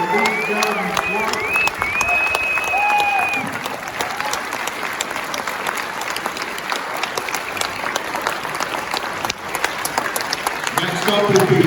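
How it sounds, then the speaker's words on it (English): A press conference audience gives a sustained round of applause for a panel of presenters at a summit event, dense and steady clapping throughout, with brief voices over it near the start and end. "Let's have a vigorous round of applause and appreciation for these gentlemen's work."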